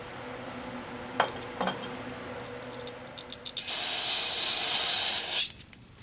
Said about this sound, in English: I used brake clean and Q-tip